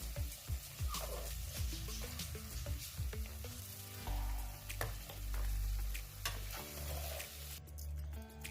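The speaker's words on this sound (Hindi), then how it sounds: "4 से 5 मिनट हो गए गाजर और मटर को फ्राई करते हुए।" Carrots and peas frying in oil in a pan for an Indian-style vegetable pasta, a quiet continuous sizzle with clinks and low thumps from stirring, no voices.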